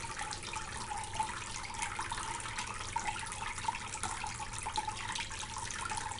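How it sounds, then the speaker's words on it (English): Water sprayed steadily onto gold concentrates on a prospecting water table, a constant hissing, splashing wash of fairly quiet running water with no talking. "what I always like to do is to spray in a little water into the concentrate"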